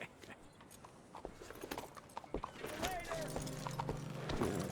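Horse hooves clip-clop at a steady walking pace in Red Dead Redemption 2, fairly faint under outdoor ambience, with a brief whinny-like tone late on.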